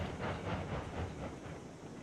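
A steam locomotive in the railroad game Railroads Online chuffs in a soft, rhythmic pattern of repeated breathy exhaust bursts under a steady hiss, fairly faint and with no other sound over it.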